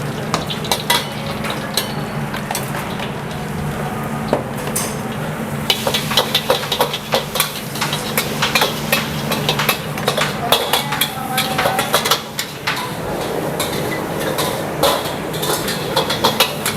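Singapore fried rice stir-fried in a wok for four portions: continuous sizzling with frequent metal scraping and clanking of the spatula against the pan, close and busy, over a steady background hum.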